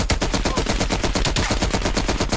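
Rapid automatic gunfire from a gun in Call of Duty: Black Ops Cold War, a loud, dense burst of evenly spaced shots rattling steadily without a break, no voices over it.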